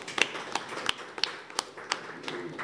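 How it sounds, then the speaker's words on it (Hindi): Sparse hand claps at an award show, a few sharp, separate claps spaced irregularly across a couple of seconds rather than full applause. "तालियां हो जाए।"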